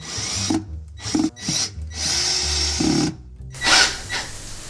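A power drill whirs in several short bursts, stopping and starting as it drives in a screw, with brief pauses of quiet between runs.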